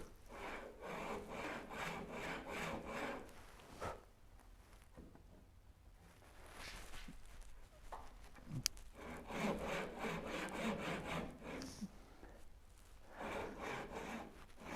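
A waxed hand saw works a 2-inch-deep cut in wood, rasping in steady back-and-forth strokes up close, pausing briefly midway and then resuming the same rhythm.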